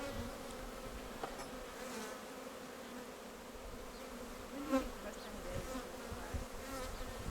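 Steady, dense buzzing of many honeybees close by at a worked hive, continuous throughout with slight swells in loudness and no talking.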